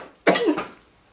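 A single sharp cough from one person, close and loud, with a quick harsh burst followed by a shorter second push and then quiet.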